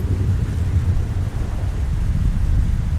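Steady low rumbling rain with a heavy, continuous wash of sound, thick with bass like a downpour or distant storm.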